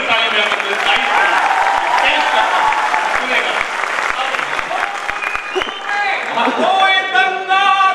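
Dense, sustained audience clapping at a mushaira poetry gathering fills the hall for several seconds, with a voice speaking over it near the end.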